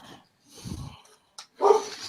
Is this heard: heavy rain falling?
no